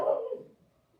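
A single short dog bark sounds close and loud, then quickly fades into quiet.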